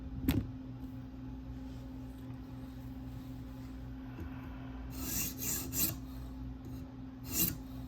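A K390 steel Spyderco Delica knife is drawn across the stone of a TSProf K03 guided sharpener, giving a soft continuous rub with a few louder rasping strokes near the end.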